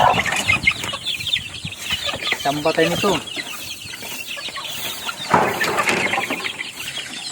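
Several month-old chicks and chickens in a backyard cluck and chirp close by, dense and overlapping, while someone speaks briefly over the flock.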